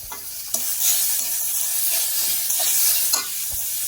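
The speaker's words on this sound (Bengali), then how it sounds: "প্রথমে পেঁয়াজ দিয়ে আর গাজর দিয়ে হালকা করে ভেজে নিয়েছে এবার চিকেনটা দিয়ে দিতে হবে" Onion, carrot and chicken sizzle in a pan as stuffing is made, a bright steady frying hiss broken by a few sharp scrapes of a spatula stirring, close up, with no voices.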